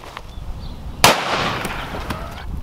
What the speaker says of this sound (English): we'll move to the 500 Magnum we got a solid copper, 700 grain in the middle